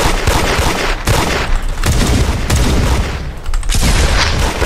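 Loud, close gunfire from other players in a shooting video game comes in rapid bursts and volleys with short gaps, booming and crackling almost continuously.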